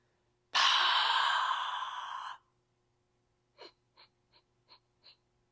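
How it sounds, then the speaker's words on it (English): Yoga breathing: one long, loud mouth exhale of about two seconds, a pause, then five short, sharp nasal exhales in an even rhythm. "We're going to exhale big, real big exhale. Then we're going to stop. And then we're going to continue to exhale 5 times."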